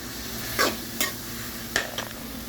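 A few scraping stirs in a pan of garlic and green chillies over a steady low sizzle of frying, each stir a short gritty burst.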